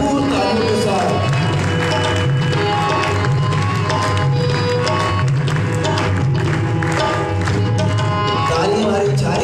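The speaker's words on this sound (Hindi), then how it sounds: "ताली हमारी जारी रहनी चाहिए" A church congregation at a 14 August worship service applauds and cheers in a dense, steady roar of clapping and crowd noise that fills the room without pause, with a voice talking over it.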